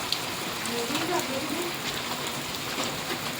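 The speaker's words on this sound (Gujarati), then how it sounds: "સરસ મજાનો વરસાદ આવી ગયો છે જોરદાર" Heavy evening downpour in Gordka village, Gadhada, Botad district, with water running on the road: a dense, even hiss of pouring rain throughout, with a faint voice in the background.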